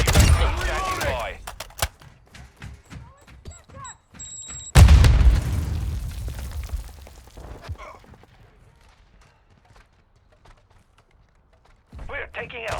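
Gunfire and explosions in the video game Call of Duty Warzone 2.0: several sharp shots in the opening seconds, then a heavy boom near five seconds with a decaying rumble, and another burst of blasts at the very end.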